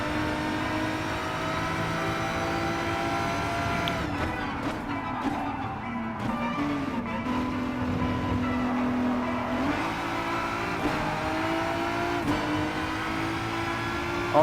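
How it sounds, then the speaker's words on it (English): A Corvette C7 Gr.3 race car in Gran Turismo Sport holds a sustained engine drone, its pitch shifting and rising through gear changes while a faint tire squeal enters midway; no talking. "I'm always using the Corvette C7 Group 3 race car for giving a little warm up."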